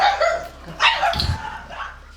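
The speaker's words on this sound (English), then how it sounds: "This episode brought to you by dogs." Several dogs barking indoors near a tabletop game session, a cluster of sharp, overlapping yips and barks of varying pitch, loud and close, with one deeper bark in the middle.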